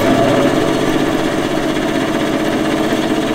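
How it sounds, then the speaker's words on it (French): A small TurnLine hobby band saw runs steadily in a workshop, giving a constant mechanical hum and whir with a fine rattling texture, close and loud throughout, with no speech. "juste pour que vous ayez une idée du bruit que peut faire une petite machine de ce genre"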